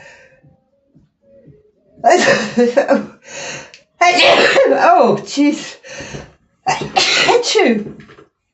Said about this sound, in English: I think I'm going to sneeze now